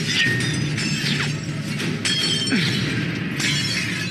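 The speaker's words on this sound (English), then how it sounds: "He smashes stained glass, catches it all really like cheekily" Stained glass shatters in the film Daredevil (2003), a loud crash followed by several sharp tinkling breaks and clinks of falling shards, with no talk.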